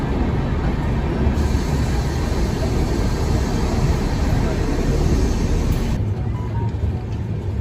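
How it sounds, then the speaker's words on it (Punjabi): A train pulling into Hetampur station in Madhya Pradesh makes a loud, steady rumble and roar that fills the whole stretch and eases slightly near the end. "ਟ੍ਰੇਨ ਪਹੁੰਚ ਗਈ ਆ ਹੇਤਮਪੁਰ ਤੇ"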